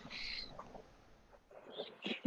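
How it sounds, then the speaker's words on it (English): Seagulls give brief, thin calls at a distance, a short cry at the start and a few more near the end, faint against murmured background noise. "Do I hear seagulls?"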